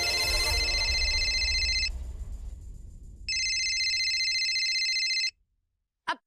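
An electronic phone ringtone trills twice, loud and close, with a short gap between rings, then silence and a brief click at the end.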